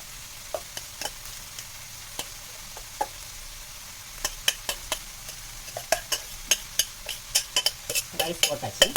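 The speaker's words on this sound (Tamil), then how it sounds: "ரைஸ் வந்து நல்லா கிளறணும்" Rice being stirred into soya chunk (meal maker) masala in a pan, a series of close scraping clicks of a spoon against the metal that grow denser toward the end, over a faint sizzle.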